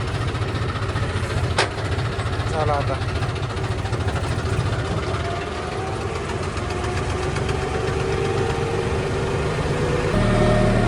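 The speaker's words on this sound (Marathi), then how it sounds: "फायनली मग आपला पण ट्रॅक्टर उतरून गेला बरं का" A tractor engine chugs steadily as it comes down a ghat road, a continuous mid-pitched drone with a brief voice over it.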